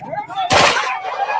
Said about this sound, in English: They are shooting us.